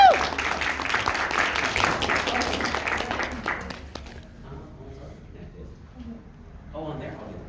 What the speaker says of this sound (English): Give a round of applause for Jenna, please.